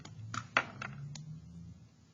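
Keys on a computer keyboard are typed to enter a math formula, giving about five quiet, separate clicks at an uneven pace over a low background hum.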